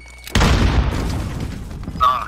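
Gunfire in Call of Duty: Modern Warfare 2019 hardcore team deathmatch: a sudden loud shot with a booming tail that decays over a second or two, followed by a brief electronic game cue.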